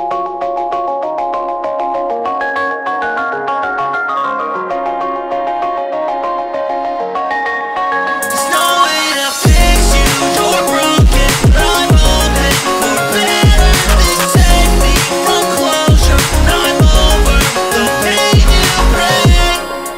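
Hyperpop beat built in Ableton, heard from the start: a soft, tinkling melodic intro for about nine seconds, then a loud, dense full mix kicks in with punchy booming bass hits and bright crashing layers, driving steadily to the end.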